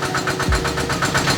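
A well-drilling rig's engine runs with a fast, even chugging pulse, loud and close throughout the short stretch, with no voices over it.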